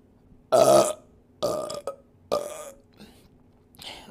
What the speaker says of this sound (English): Few more burps on the way out.